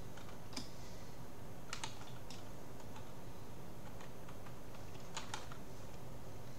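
Computer keyboard keys clicked in short scattered bursts of typing, fairly quiet and close, over a steady background hiss with no one talking.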